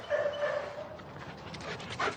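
A Belgian Malinois barking and whining, a short run of close, moderately loud yips and whimpers with a sharper bark near the end.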